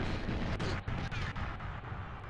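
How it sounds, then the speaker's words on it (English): A grenade explodes in the video game GoldenEye, heard as a muffled, low rumbling blast with a few faint crackling bursts, fairly quiet throughout. "And that was a grenade going off."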